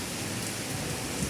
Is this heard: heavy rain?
yes